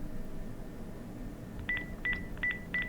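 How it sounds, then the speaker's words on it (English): Phone number dialed on an in-game phone at a closed, empty shopping mall in the Self-Checkout Unlimited demo: four short, evenly spaced touch-tone beeps over a low, steady background hum. "Can I dial a phone number?"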